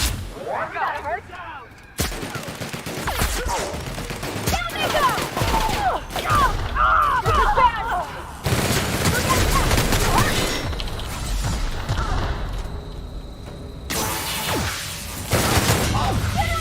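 Gunfire from the video game The Outer Worlds, bursts of shooting and impacts layered over game sounds and chatter, fairly loud and continuous across the stretch, with sharp cuts between busy passages.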